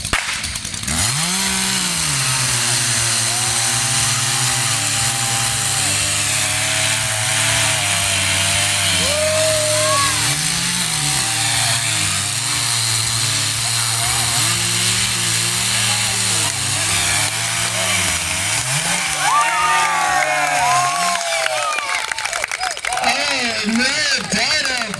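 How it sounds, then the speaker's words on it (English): Stock chainsaw running and cutting wood in a lumberjack competition at a strawberry festival in Farmington, Iowa, a loud continuous engine snarl with pitch rising and dipping under load, announcer-style talk over it toward the end. "Here in Iowa, we get to have our saws running."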